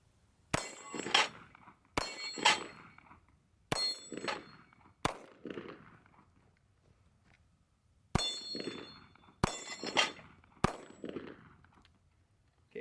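Taurus PT 92 pistol fired at steel paddle targets on a shooting range: seven sharp, loud shots in two bursts, each followed by a bright metallic clang and a short ringing decay, with no talking.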